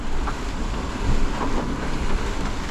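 A sailboat smashes into waves in total darkness at night, a dense, loud roar of rushing water and wind with repeated surging thumps as the hull hits the swell.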